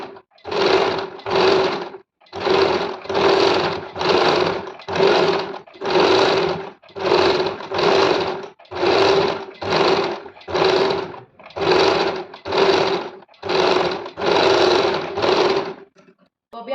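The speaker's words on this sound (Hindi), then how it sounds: "इसको इस तरह से फोल्ड करते हुए सिल देंगे।" A sewing machine stitches a kurti neck: loud, close whirring runs of a few seconds each, about a dozen in steady succession, separated by short pauses as the fabric is folded and guided.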